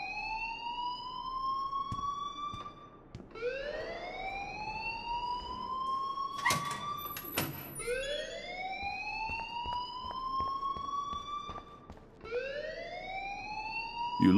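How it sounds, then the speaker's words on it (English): A video game fire alarm wails in a repeating rising siren tone, each sweep climbing then cutting off before starting again, steady and fairly loud, with a few clicks and knocks in between. "please turn off that alarm since that's your job"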